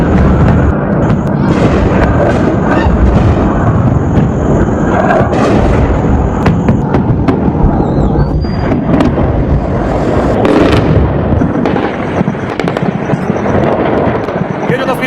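Iranian ballistic missiles striking over Israel and being intercepted by the Iron Dome, heard as a dense, continuous roar of booms and crackling blasts with sharp bursts throughout, loud and unbroken, with voices faintly mixed in.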